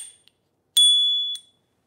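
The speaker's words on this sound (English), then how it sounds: "A cool little bell." A small bell on an Engwe T14 mini folding e-bike gives two quick rings, a bright lingering ding followed by a shorter second tap, close and clear with nothing else around.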